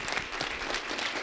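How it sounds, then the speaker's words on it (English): Audience applause at a youth award ceremony, a steady wash of many hands clapping together in a hall, moderately loud and sustained with no voices over it. "So give them a round of applause."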